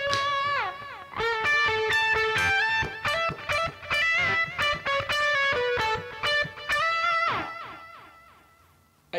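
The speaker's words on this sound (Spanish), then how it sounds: "Ahí se escucha más el delay, si se dan cuenta." An electric guitar runs through a Boss DD-7 delay pedal with the reverb switched off, picked notes and chords each trailed by distinct repeating echoes that ring out and fade at the end.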